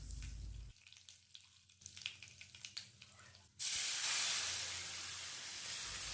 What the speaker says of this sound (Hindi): जब तड़का अच्छी तरह से चटक जाए तो इसमें थोड़ा सा करी पत्ता डाल देना है